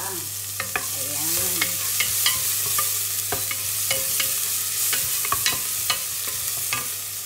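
Aromatics sauté in a hot pan, a continuous close sizzle punctuated by frequent sharp scrapes and clinks of a utensil stirring at an uneven rhythm, with no talking.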